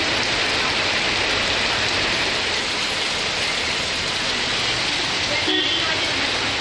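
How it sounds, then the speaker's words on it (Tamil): Heavy rain pours in the Sriperumbudur and Walajabad area of Tamil Nadu, a loud, dense, unbroken hiss of falling water that holds steady throughout. "ஸ்ரீபெரும்புதூர், பாலாஜாபாத் உள்ளிட்ட பகுதிகளில் கனமழை வெளுத்து வாங்கியது."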